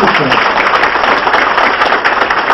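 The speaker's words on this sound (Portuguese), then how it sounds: "E sabe por que o Netinho puxou o aplauso?" A crowd at a political campaign rally claps in a loud, dense burst of applause, close and continuous across the short span, with no clear voice above it.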